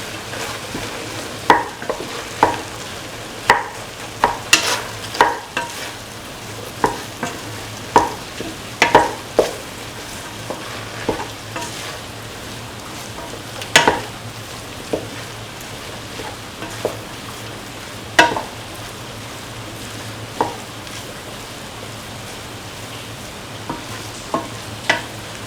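Scrambled egg and bottle gourd rice with coconut milk being stirred and fried in a pan: steady sizzle punctuated by irregular sharp scraping clicks of the spoon, close and fairly loud, no voices.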